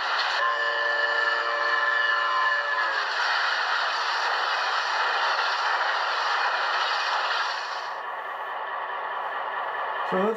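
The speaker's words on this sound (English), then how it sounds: "Doppler horn as he goes by on a crossing or something." HO scale Rapido FL9 locomotive in New Haven scheme with an ESU LokSound decoder, sounding a loud, sustained Doppler horn over engine rumble, with the pitch dropping after about eight seconds as if passing by.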